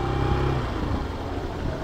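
A motorcycle engine drones steadily while the bike pushes through a deeply flooded market street in Malolos, with a low continuous rumble and water wash filling the short stretch.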